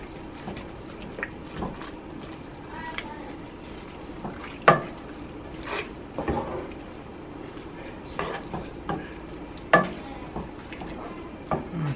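A spoon stirring vegetables and mustard greens in a pot, giving soft scraping and clinks with a few sharper knocks against the metal, close and steady, with no talking.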